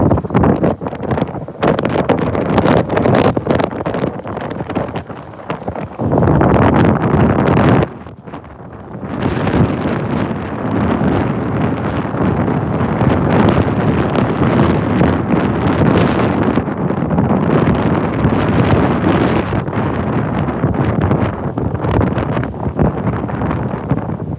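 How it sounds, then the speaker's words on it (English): Heavy wind buffets the microphone in loud, rough gusts on a city street in Flushing, Queens, New York, nearly continuous with a brief lull partway through. "The wind noise is bothering me."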